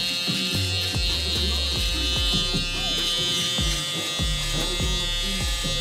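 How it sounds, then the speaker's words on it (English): Electric shaver buzzing steadily and close while used for a closer cut on a taper haircut, with rhythmic pulses as it moves over the skin. "Then we're gonna follow it up with our shaver to get it closer to the skin."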